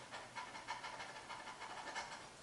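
A person imitates a dog's panting as a singing breathing exercise, giving quick, rhythmic breathy huffs in a steady run of short pulses, close and fairly quiet, with no talking.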